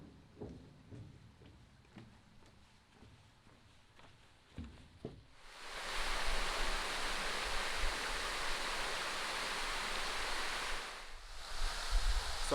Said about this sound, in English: So I'm at the dam with the waterfall